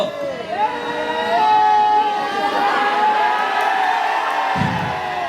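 College students at UC College cheer and whoop as a loud, sustained crowd roar that swells and holds throughout, with shouts rising above the din; clapping is hard to pick out within the noise.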